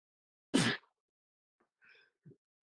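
A single sharp sneeze bursts out close to the microphone, followed by a few faint, quiet sounds in an otherwise silent room.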